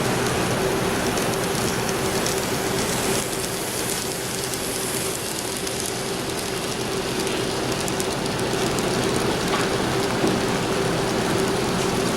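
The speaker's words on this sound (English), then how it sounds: "we have the Santa Fe train coming down" A small N scale Santa Fe model train runs steadily with a constant whirring motor and rattling wheels, a thin hum underneath, loud and unbroken; no voices.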